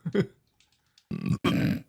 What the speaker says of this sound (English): It's a very flaccid burp.